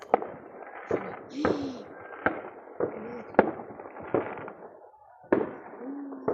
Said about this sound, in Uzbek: Salyut.